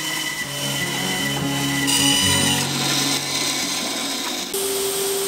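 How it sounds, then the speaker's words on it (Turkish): A band saw cuts a knife handle for a steel knife, a steady high mechanical whine whose pitch shifts as the blade bites, running continuously and loudly without voices. "Şerit testereyle bıçağın kabzasını kesiyoruz."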